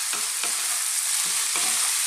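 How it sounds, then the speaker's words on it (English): Parboiled potatoes frying on high-ish heat in a pan for an Indian aloo masala, a constant bright sizzle broken by a few soft knocks as they are tossed, close, with no talking. "And let's just throw this around on a kind of high-ish heat, just for like 2 minutes."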